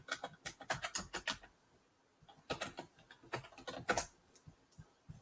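Keystrokes on a Chromebook keyboard come in two quick bursts of clicky taps separated by a short pause, close-up and fairly quiet with no talking.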